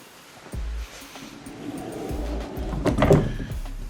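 A door in a new home in Tampa, Florida, thuds open at close range, then a longer sliding rumble builds and peaks with a rattle before fading.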